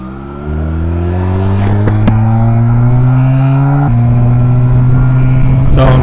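A Honda Rebel 250 motorcycle engine revs up and accelerates, its tone rising steadily, then dropping briefly at a gear change before climbing again, loud and close with no talking.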